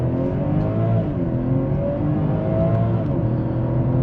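A BMW 540i xDrive with the B58 engine accelerates under load from inside the cabin, a steady deep drone with rising harmonics lasting several seconds, no talk over it.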